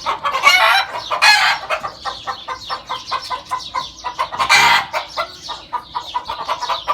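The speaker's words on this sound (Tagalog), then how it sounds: "Ang ingay ng manok" Chickens cluck and squawk busily up close, a dense flock chattering continuously with a couple of louder bursts.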